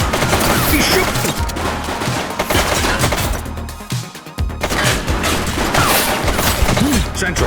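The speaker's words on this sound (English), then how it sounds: "He's shooting!" Gunfire in the police action game The Precinct, a dense, loud barrage of overlapping shots and impacts with a brief lull midway, game voices mixed in.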